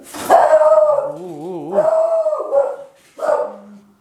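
An agitated dog barks and howls up close, loud wavering yelps and a drawn-out whining howl in short bursts with brief gaps, indoors.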